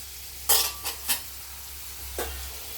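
Shrimp and pui shak greens are stirred in a hot pan, with a few scraping strokes of a spoon or spatula over a steady low sizzle.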